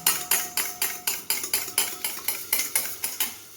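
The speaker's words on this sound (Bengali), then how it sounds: "এটাকে ভালো করে এইভাবে ফেটিয়ে নিতে হবে" A utensil beats a mixture with salt and turmeric in a bowl, about a dozen quick, evenly spaced clinking strokes close up, steady and alone.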